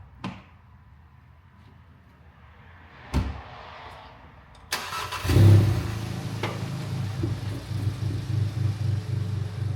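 A Stage 2 tuned Volkswagen Golf GTI Mk7 starts up and pulls away, a door thud followed by a rising engine rumble that holds loud and close with pulsing revs; no talking.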